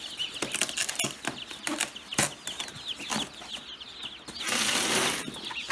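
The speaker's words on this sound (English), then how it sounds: "you can tell that there's some ducks in there" Ducklings shipped from Missouri in a poultry box give scattered peeping calls with rustling and brief wing-flapping bursts, moderately close and fairly quiet, with no talking.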